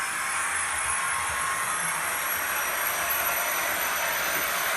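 Hornby Midland Pullman HST model train's sound decoder gives a steady, hissing diesel engine drone with a high whine, running continuously at an even level with no talk.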